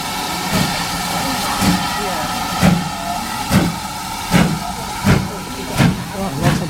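A West Somerset Railway steam train chuffs in a steady, evenly spaced rhythm of exhaust beats over a continuous hiss and rumble, heard close and fairly loud.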